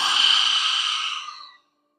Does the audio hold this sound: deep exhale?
yes